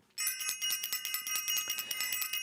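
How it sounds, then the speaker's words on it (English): A bright metallic bell rings in a rapid, continuous trill of repeated strikes, loud and close with no other sound. "I want to ring the bell."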